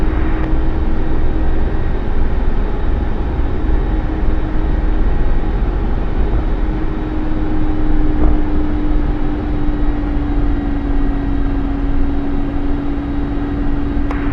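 Steady turbine whine and rotor drone from a Mi-24P Hind attack helicopter in the DCS World flight simulator, settling onto the ground after a hover. The engine sound runs continuously and loudly, with no voices.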